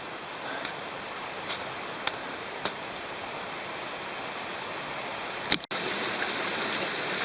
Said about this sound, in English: And this is our 8th crossing of Cantrell Creek.